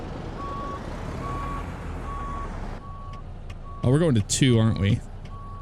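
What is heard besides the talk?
Kenworth K100 truck reversing beeps, video game American Truck Simulator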